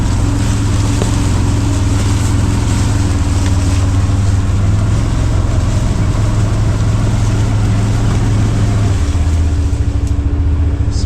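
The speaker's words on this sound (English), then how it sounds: "We'll see just how far we can get back in there with the Can-Am." A Can-Am off-road vehicle climbs a trail in West Virginia, its engine droning loud and steady right up close, with rumbling low tones and a slight drop near the end.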